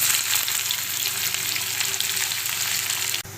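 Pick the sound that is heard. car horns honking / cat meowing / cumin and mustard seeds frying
cumin and mustard seeds frying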